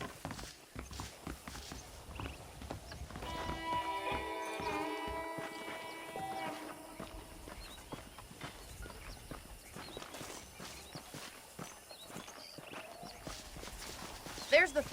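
Horse hooves clip-clop at a steady walking pace in the Western video game Red Dead Redemption, moderately close and mixed with ambient game sound, while someone talks over them.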